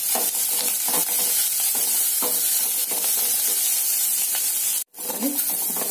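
Garlic, curry leaves and onion fry in hot oil for a tempering, a loud steady sizzle and hiss with occasional stirring scrapes and one brief dropout near the end.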